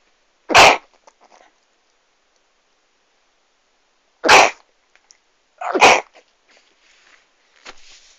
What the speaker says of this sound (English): I'm going to sneeze for a second.